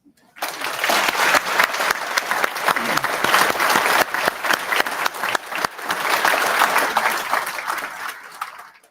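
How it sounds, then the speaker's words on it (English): Audience applause at a medical school white coat ceremony, a large crowd clapping steadily and loudly for most of nine seconds, with a brief dip midway before rising again and fading out. "I want everybody to give them a round of applause."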